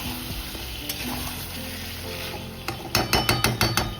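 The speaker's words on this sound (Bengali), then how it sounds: "এরপর আমরা আদা বাটাটা অল্প একটু নাড়াচাড়া করে ভেজে নেব কিছুক্ষণ" Ginger paste frying in hot oil in a pan, a soft steady sizzle under low background noise, with a quick series of scraping stirs and clinks near the end.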